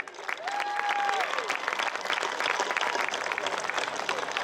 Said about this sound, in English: let's get a big round of applause for Dick Needham.